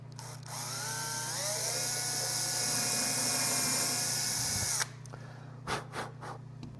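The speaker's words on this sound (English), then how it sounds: "let's pre-drill." A handheld power drill pre-drills holes in cabinet wood, whirring loud and close in one steady run for about four seconds before winding down, followed by a few brief knocks and clicks.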